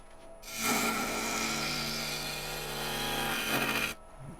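A spinning log on a wood lathe has its bark cut away by a turning tool, giving a loud, continuous rasping, whirring cut for about three seconds that starts and stops abruptly, close up, with no speech.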